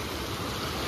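Water rushing at Bokaria waterfall in Mirzapur, a steady broadband roar of flowing water, moderately loud and continuous with no voices.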